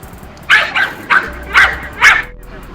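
A dog barks five times in a quick, evenly spaced series, sharp and close, with a faint low rumble beneath.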